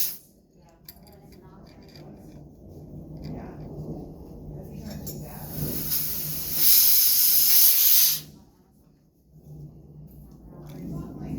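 Gas hisses from a leak at the regulator on an oxygen tank, rising to a loud, bright burst for a couple of seconds amid handling noise and a voice speaking nearby.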